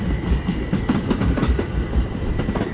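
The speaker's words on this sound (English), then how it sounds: "There's a train coming past now, it's just about to go over the bridge." A train rumbles past steadily with rhythmic clickety-clack of wheels on the rails, loud and continuous throughout.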